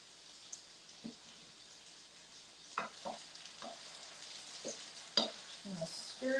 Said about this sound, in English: I'm going to stir this around a little bit. Make sure everybody's cooking evenly